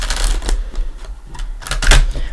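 Tarot cards are shuffled close up, a quick burst of riffling clicks and flutters followed by a second, sharper riffle.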